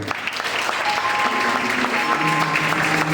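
A church congregation applauds as a bishop is introduced, steady clapping with a faint tonal musical background running underneath.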